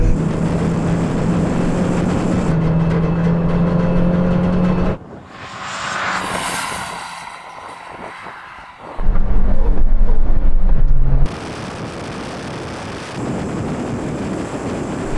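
A turbocharged Suzuki Jimny at a drag race roars loudly as the engine revs and accelerates, then cuts out into wind buffeting before the engine noise surges back hard, with no talking.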